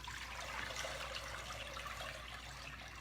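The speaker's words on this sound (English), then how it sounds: "All right, so I got my potatoes drained" Water from boiled potatoes pours and splashes steadily through a colander, a continuous rushing, trickling stream heard close up with no talking.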